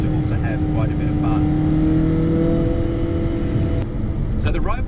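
A car drives a winding mountain road toward Lake Mountain, its engine droning steadily up close with shifting pitch as it revs, and a voice talks over the engine noise.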